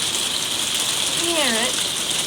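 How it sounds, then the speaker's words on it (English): Hail pelts down steadily and loudly during a hailstorm, a dense continuous patter that fills the whole clip, with a brief voice heard partway through. "It's a hailstorm."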